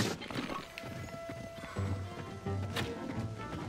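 Hooves clip-clop from a horse in Zelda: Tears of the Kingdom, a steady patter with a brief whinny, set among game music and scattered thuds.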